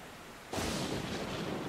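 Thunderstorm and rain in Stormworks during a severe storm at sea: quiet low rumble, then a sudden loud broadband crash of thunder that settles into a dense, sustained roar of heavy rain.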